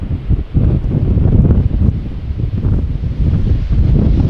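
Strong crosswind at Schiphol Airport buffets the microphone in a continuous loud, low roar with gusty swells and no talking.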